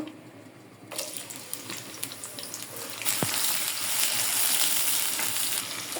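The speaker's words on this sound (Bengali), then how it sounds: "তেল গরম হয়ে গেছে পেঁয়াজ দিয়ে দেব" Sliced onions go into hot oil in a heated kadai for a beef curry, and a steady close sizzle starts up, then swells louder and hisses on without a break. No voices.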